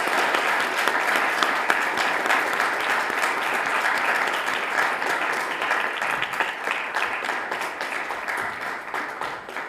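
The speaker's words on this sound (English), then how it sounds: "please join me in a round of applause for all the ones that made this day possible." A large conference audience applauds the event organizers in a dense, even, continuous wash of clapping hands that holds steady for nearly ten seconds.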